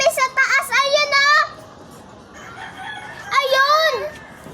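Rooster crowing twice nearby, loud drawn-out calls separated by a quieter pause with background noise, in an outdoor setting.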